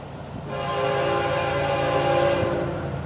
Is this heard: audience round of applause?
no